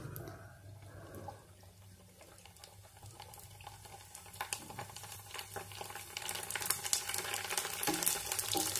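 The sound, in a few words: frying readymade panipuri (fuchka) puffing up in oil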